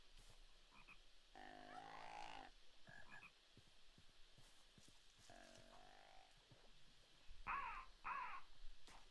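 A crow caws in modded Minecraft, giving a few harsh, rasping calls in separate bursts, with a sharper pair near the end, over faint ambient game noise and no talking.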